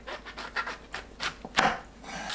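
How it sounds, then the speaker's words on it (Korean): A knife trims the dirty base off mushrooms on a cutting board, giving about eight short, crisp cutting strokes in an uneven rhythm, close by and fairly quiet, with no talking. "버섯 지저분한 밑부분만 손질합니다"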